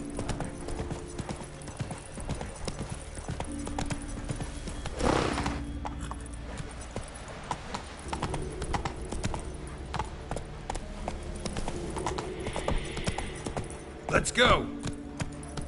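Roach, a horse in The Witcher 3 video game, gallops with rapid, rhythmic hoofbeats up close, punctuated by a short whinny, while a voice speaks briefly.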